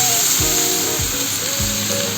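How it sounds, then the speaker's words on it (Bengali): Sweet pumpkin leaf fritters sizzle loudly in a pan after a little water is added, giving a steady hissing fry with a few soft stirring scrapes. "এখন আমি অল্প জল দিয়ে ভাজাগুলোকে কিছু সিদ্ধ করে নেব"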